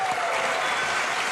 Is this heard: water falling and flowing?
no